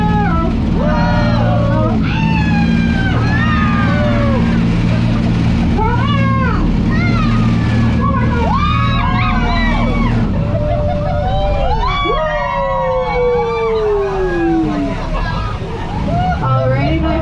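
A 2100hp whirlpool jet boat roars steadily as it swings through a Hamilton turn on river rapids near Niagara Falls, its loud engine drone under a crowd of passengers shrieking and cheering close by.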